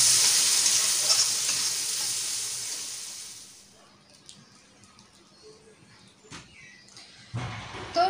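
Eggplant frying in fish oil, a loud, close, steady sizzle that fades to a low hiss halfway through, followed by a few faint clinks and knocks, with no talking.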